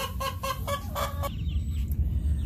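Chickens cluck on a farm in a short run of rhythmic, close clucks, then the calls drop away, leaving a low background rumble with no talking.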